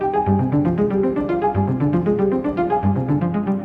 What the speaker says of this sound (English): we have the synthesizer, which is the copy of that an octave lower